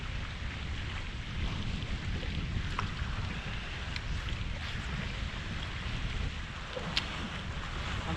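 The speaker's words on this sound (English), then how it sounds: "It's really windy, so I'm over here fishing in the wind on the windy side of this creek." Wind gusts across the windy side of a creek on Lake Lanier during a bass fishing outing, a steady broadband rush with microphone buffeting and faint water noise, no voices.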